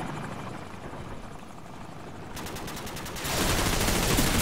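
Helicopter in Call of Duty 4, a dense continuous rotor roar with rapid chopping, close and loud, swelling stronger in the last second alongside bursts of gunfire.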